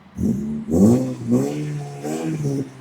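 A 2012 Honda Civic FB 1.8 petrol engine revs up close in three quick, rising bursts that ease back between pulls, loud and alone.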